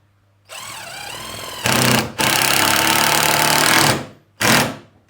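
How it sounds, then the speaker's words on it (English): A drill driver driving screws whirs in several bursts while building a koi pond filter, a long whining run with pitch changes, then shorter pulses, close and loud between brief silences. "Tap they straight into there with your drill driver."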